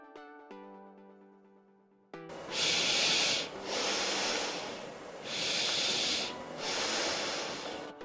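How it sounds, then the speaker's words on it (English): A person taking slow deep breaths during a breathing exercise, four long, close, airy inhales and exhales in an even rhythm, following a brief soft musical tone and heard without any talk. "take a few deep breaths"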